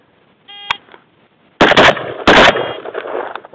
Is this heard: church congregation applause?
no